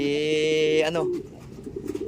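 A brief, close pigeon coo from pigeons descending, a low throaty warble that stops abruptly, followed by faint rustling.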